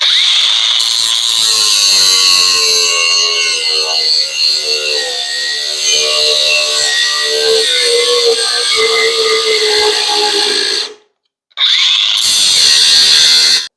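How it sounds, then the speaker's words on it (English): An angle grinder at full speed, a loud continuous high whine that shifts in pitch as it bites into a chunk of steel, cutting out briefly near the end before starting up again. "So let's grab an angle grinder."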